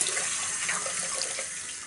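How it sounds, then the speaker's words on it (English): Water from a tap rinsing the face after a traditional wet shave, a steady close hiss of running water into a sink, alone and without talking. "I'm gonna go rinse the face"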